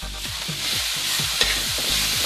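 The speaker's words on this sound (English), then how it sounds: "you want to add in your raisins, your olives, and your garlic, and saute it for about a minute" Onion, raisins, olives and garlic sizzle steadily in a pan while being stirred, the scraping strokes of the spoon repeating in an even rhythm over a constant close frying hiss.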